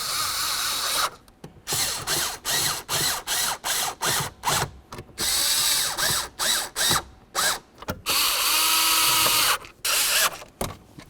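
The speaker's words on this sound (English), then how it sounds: "Now let's start putting in the screws for this." A ratcheting driver clicks in repeated close bursts, separated by short pauses, while screws are driven in to mount a multi-function switch on a 1998-2011 Ford Ranger, loud and without speech.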